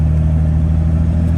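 A standard-output Dodge Ram truck with about 400,000 miles pulls away under normal acceleration, a steady, loud low engine drone with road rumble, no talk.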